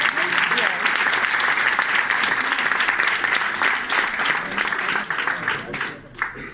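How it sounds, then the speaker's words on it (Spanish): Audience applause at a business event in Barcelona, a steady wash of clapping from a crowd, fairly loud and continuous, tapering slightly near the end. "Clap for them. Give them applause."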